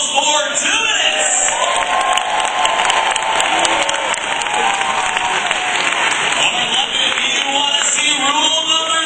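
An arena crowd at a Harlem Globetrotters basketball show at Wembley gives loud, sustained applause and cheering, a dense wash of clapping and shouts that runs the whole time, with an announcer's voice over it.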